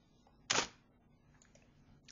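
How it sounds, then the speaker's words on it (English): A camera shutter fires on an automatic time-lapse, two sharp mechanical clicks about one and a half seconds apart, close and crisp against near silence. "from the shutter releases, you can hear that it is time lapsing"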